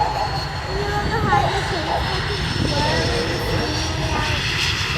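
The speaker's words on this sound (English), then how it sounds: "This is Spitfire." A Supermarine Spitfire performing at an airshow gives a continuous engine drone and rumble, fairly loud and steady throughout, mixed with crowd and ambient noise.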